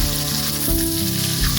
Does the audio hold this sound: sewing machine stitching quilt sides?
no